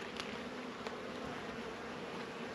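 Honeybees droning inside an open beehive during a hive inspection, a low steady buzz filling the background, faint and continuous, with a couple of soft clicks and no talking.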